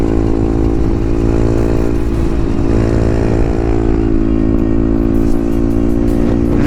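Exhaust of a 2021 Beta 125 RR 4T liquid-cooled motorcycle roars close and steady, engine note holding with slight rev swells, crackle hard to separate from the continuous drone.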